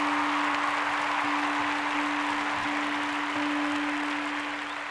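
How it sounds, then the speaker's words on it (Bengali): Studio audience on the Bengali TV quiz show Dadagiri applauds loudly and steadily for a contestant, a dense wash of clapping that holds for several seconds and tapers slightly at the end, with a steady tone running underneath. "জোরে হাত তালি ওর জন্য"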